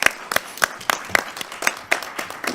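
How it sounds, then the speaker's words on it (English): Sparse applause from a small group at a regular city council meeting in Oak Park: about eight crisp, distinct claps, fairly close and loud, spaced unevenly over a couple of seconds with quiet between them. "And a round of applause."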